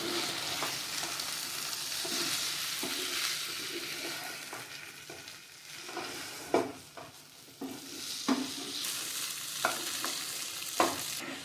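Fried cabbage Manchurian balls get tossed and stirred in a sizzling pan, with continuous frying hiss broken by scraping spoon strokes and sharp clacks against the pan, no voices.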